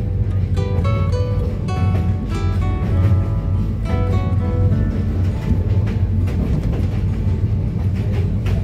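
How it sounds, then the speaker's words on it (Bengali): The Kalni Express, a passenger train leaving Sylhet for Dhaka, rumbles loudly from onboard with a constant low roar, rhythmic wheel clatter and high metallic squeals and rings from the rails. "সিলেট রেলওয়ে স্টেশনের 2 নম্বর প্ল্যাটফর্ম থেকে ঢাকার উদ্দেশ্যে রওনা দিলাম।"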